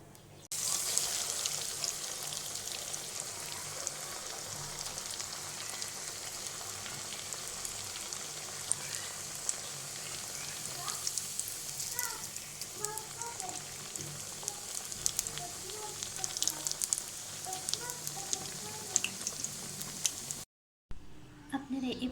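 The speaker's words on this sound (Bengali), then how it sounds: "গরম তেলে ভেজে নেব।" Russian donuts deep-fry in a pan of hot oil. A continuous bubbling sizzle with small popping crackles carries on at moderate loudness, then drops out briefly near the end before resuming.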